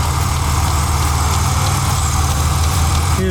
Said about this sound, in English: Something's tapping. Oh, it might be the belt.